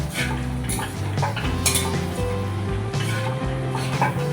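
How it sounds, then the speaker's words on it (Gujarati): A spoon scrapes and clanks against a pan as gram flour mixture is stirred in ghee for mohanthal, with rhythmic, close metallic strokes and a soft sizzle beneath. "એકદમ તાવે તો હલાવતો જ રાખવાનું."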